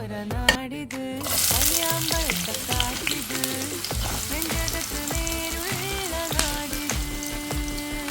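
Chopped onion, ginger and green chilli sizzle in hot coconut oil, the frying noise heard under music with tonal melody, steady and moderately loud throughout.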